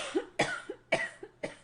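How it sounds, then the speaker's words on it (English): A woman coughs in a quick series of four harsh, close bursts, each followed by a short wheezy catch of breath. "Let's let her cough."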